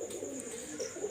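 Red-eyed pigeons coo faintly in the background, a low, muffled murmur over a steady hiss with no voices.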